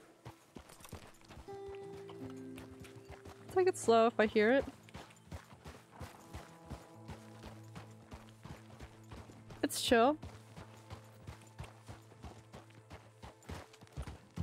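Horse hooves clop steadily at a slow walk in the Red Dead Redemption 2 video game, a rhythmic, soft stream of hoofbeats with two loud neighs and a player talking over it.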